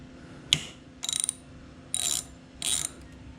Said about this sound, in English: now we're going to loosen the hub, or the rotor, so that we can center it with our caliper there